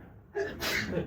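A single short human sneeze, a quick intake of breath followed by a sharp burst, close by and fairly soft.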